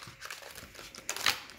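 Astrology oracle deck cards rustle and flutter while being shuffled by hand, soft crinkling building to a brighter riffle near the end, close and brief.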